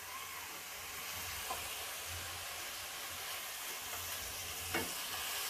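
Mutton seasoned with a little salt being stir-fried and roasted in a pan for mutton kosha, giving a steady sizzle and frying hiss with occasional stirring scrapes throughout, close and moderately loud.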